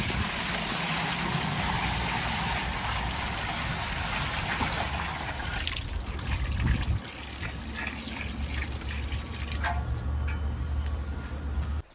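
Water pours into a backyard pond, making a loud, steady splashing rush close by that continues throughout, with a slight change in character partway through.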